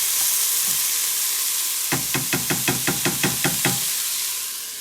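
Onions sizzling in a pot for homemade chicken noodle soup hiss steadily while a spoon knocks against the pot about ten times in a quick, even rhythm, then the frying fades on its own.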